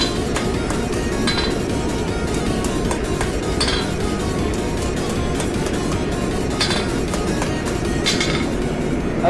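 Repeated sharp metallic clinks ring out at intervals, hammer strikes straightening a metal piece over a steady background roar of a forge.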